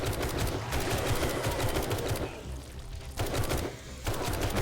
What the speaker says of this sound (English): Trying not to shoot the dirt beneath their feet